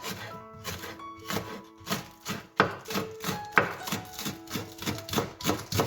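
A knife chops spring onions on a cutting board, a steady series of sharp, close knocks in an even rhythm, with faint background music underneath.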